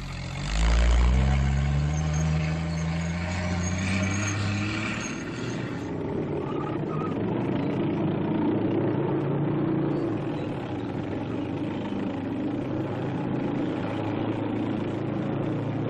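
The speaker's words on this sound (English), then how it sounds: "Officially designated as the M29C light cargo carrier, This vehicle has proved itself equally at home, not only in deep snow" M29C Weasel light cargo carrier engine, a tracked vehicle on snow-covered terrain: a steady droning engine rumble with a rising growl at the start, loud and continuous throughout.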